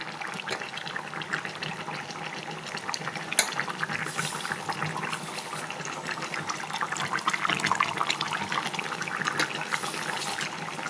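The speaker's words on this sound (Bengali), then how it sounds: "আর এদিকে শুক্তোটাতে জল দিয়ে দিলাম।" Water poured into a pot of shukto, a Bengali mixed-vegetable curry, during home cooking. It makes a steady, continuous splashing hiss that runs throughout at moderate level, with no talking.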